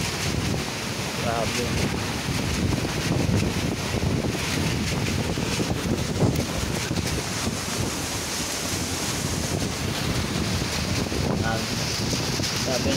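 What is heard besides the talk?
strong typhoon wind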